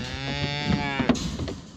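A Holstein nurse cow moos loudly and close by in a barn with new calves, one long, drawn-out bellow with no one talking over it.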